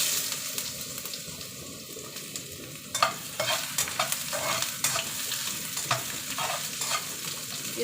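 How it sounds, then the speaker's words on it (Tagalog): Pig intestines with plenty of ginger sautéing in a little oil in a pan, a steady sizzle broken by repeated scraping and stirring clatters of a utensil against the pan. "Ngayon gisa na natin siya guys. Ayan, dito natin igigisa sa ating kawali."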